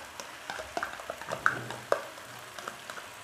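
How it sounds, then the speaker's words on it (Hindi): Chicken macaroni being stirred with chili sauce and ketchup in a pan, a scattering of close, crisp scraping clicks and taps from the spoon over a soft frying hiss, with no talking. "और इसको अच्छी तरह से हम मिक्स कर लेंगे।"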